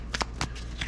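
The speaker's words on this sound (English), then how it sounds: "we'll give it a quick shuffle here, just to make sure everything's mixed up really well" Playing cards being shuffled for a tabletop war game, a few quick riffling bursts close by and fairly quiet, with no talk.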